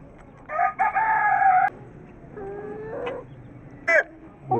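A rooster crows twice from a rooftop, loud and near, each drawn-out cock-a-doodle-doo call rising and falling, with a short clucking burst afterward over a low background hum.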